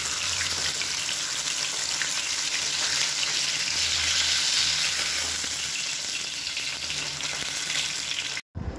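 Vaval fish fries in a pan of hot oil, giving a steady, dense crackling sizzle that holds throughout at moderate loudness, with a brief cut near the end.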